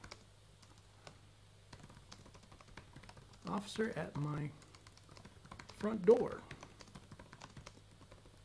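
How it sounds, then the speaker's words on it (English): Soft, rapid keystrokes on a computer keyboard, a question typed in quiet clusters of clicks. A faint steady hum sits underneath, and a person speaks briefly partway through. "I don't know if you guys can see me typing the question."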